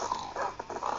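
Dogs in a Minecraft server give a short run of soft, close growling and huffing barks that come in quick pulses, with no other sounds around them.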